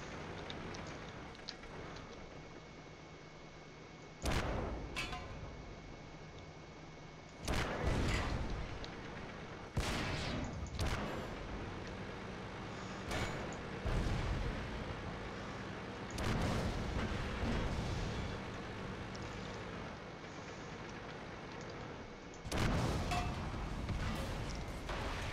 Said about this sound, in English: This gun sucks! I can't hit the broadside of a barn.